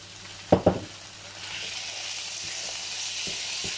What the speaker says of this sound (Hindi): तो इसको हल्का सा पहले फ्राई करेंगे।